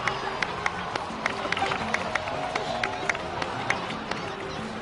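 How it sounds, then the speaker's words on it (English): A crowd applauds steadily in Genshin Impact, with scattered sharp claps and some cheering mixed in, held at a moderate distance for several seconds. "so please give another round of applause for them"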